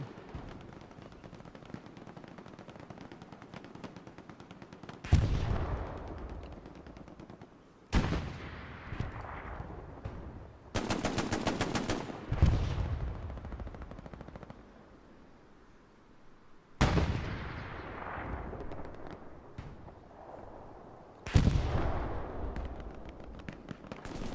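Gunfire in the console game Hell Let Loose during a competitive match on Omaha: repeated loud bursts and rattling machine gun fire from a rooftop, in separate volleys several seconds apart, with heavy booming impacts and quiet gaps between them.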